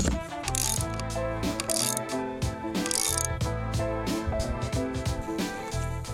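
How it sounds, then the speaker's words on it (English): A ratcheting tool clicks rapidly and steadily while unscrewing screws on a Cybertruck, a close, continuous mechanical ratchet with a few brief pauses; no talking. "After I quickly disconnected the wire, I started unscrewing the screws."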